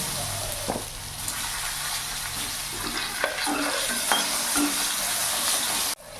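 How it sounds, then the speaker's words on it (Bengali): Eggs fry in hot oil in a pan while Bengali home cooking is under way, giving a continuous close sizzle with a few faint stirring knocks and scrapes. The sizzle cuts off abruptly near the end. "ডিমগুলো ভেজে নেবো"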